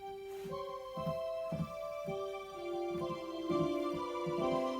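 Electronic organ playing an 8-foot flute stop on its own, soft pure sustained tones in a slow melodic line, notes changing every half second or so with faint key thumps, close and moderately quiet, no voices.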